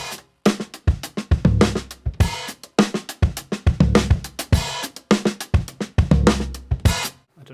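A dry, unprocessed mix of a multitrack drum recording plays steadily, with loud rhythmic kick and snare hits and busy cymbal wash repeating in an even groove with no voices.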